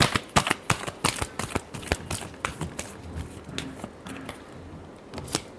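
A deck of tarot cards is shuffled by hand, giving a quick series of crisp, close riffling snaps and flicks that thin out toward the end, with no talk.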